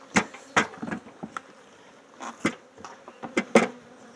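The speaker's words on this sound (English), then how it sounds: "There is a lot of extra bees in this box" Honeybees crowd a hive box during a colony split, giving a soft continuous hum with several louder buzzing passes close by.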